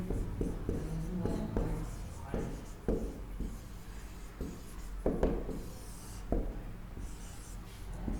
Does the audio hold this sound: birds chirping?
no